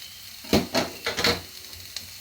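Garlic frying in a pan with corned beef hash, stirred in a few quick scraping strokes over a quiet sizzle, close and brief.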